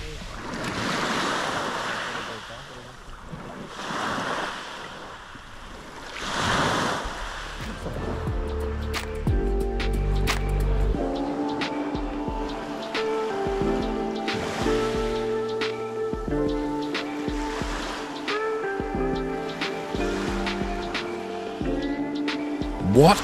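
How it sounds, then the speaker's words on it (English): Waves wash onto the pebbly shore of Assos beach in Kefalonia, Greece, in broad rolling surges for several seconds before music rises and largely covers them. "Up close, this beach doesn't disappoint. Just stunning. but it's a pebbly beach."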